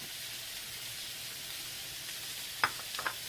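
Onions hit a hot frying pan with ground beef from which the grease has been drained, giving a steady, even sizzling hiss with a few brief sharper pops near the end, and no talking.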